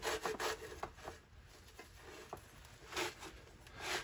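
Rags scrub rust off a German M1916 steel sniper shield, producing soft irregular rubbing and scraping strokes at close range, fairly quiet, with a few sharper swipes.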